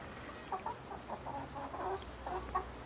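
Several chickens cluck excitedly in short, repeated bursts while gathering over cheese, moderately close and alone without talk.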